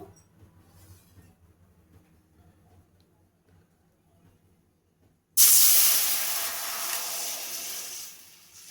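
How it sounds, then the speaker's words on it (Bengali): One bowl of water poured into a hot wok set up for sugar syrup bursts into a loud, sudden hiss and sizzle after quiet, then slowly fades while still steaming. "এখানে আমরা কড়াই বসিয়ে দিয়েছি চিনির শিরার জন্য। এখানে আমি 1 বাটি জল দিয়ে দেবো।"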